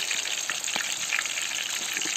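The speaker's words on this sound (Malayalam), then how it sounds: "ചിക്കൻ നിർത്തിപ്പൊരിക്കുന്ന എങ്ങനെയാണെന്ന് കാണിക്കുന്നത്." A whole chicken fries in hot oil, a loud, dense and continuous sizzle with crackling bubbles, close up and with no voices.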